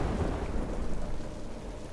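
Rain and thunder from Chaac's ability in the Smite 2 video game: a steady, dense rumble with rainfall hiss that holds loud and unbroken throughout, with no talk over it.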